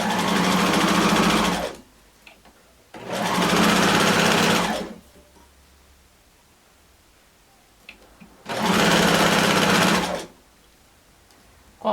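Sewing machine running a small zigzag stitch on slippery knit fabric for a blouse, three steady whirring bursts of about two seconds each separated by quiet pauses, close and loud.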